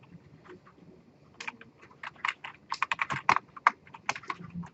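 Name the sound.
typing on a computer keyboard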